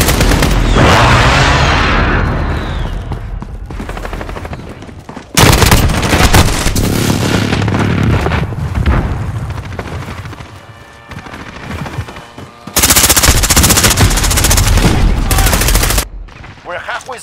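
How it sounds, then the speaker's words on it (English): Call of Duty Modern Warfare battle with an allied precision airstrike: loud booming explosions and rolling blasts mixed with sustained machine-gun and rifle fire, pounding hardest in several heavy bursts, with faint voices now and then. "Allied precision airstrike incoming."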